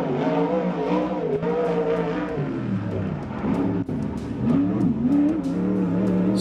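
A 360 sprint car runs laps on a dirt oval track, its engine a loud, steady roar that rises and falls as it accelerates through the turns, close and continuous throughout.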